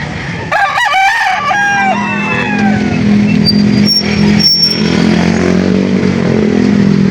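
Roosters crowing one after another at a chicken auction market in Lipa, over a steady background hum of the crowded market with faint engine noise.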